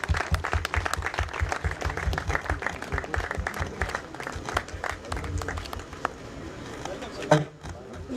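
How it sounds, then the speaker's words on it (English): An audience at a wine launch event applauds steadily with many hands, while voices murmur underneath and a louder bump comes near the end as the clapping dies away. "Can we get a round of applause for everybody?"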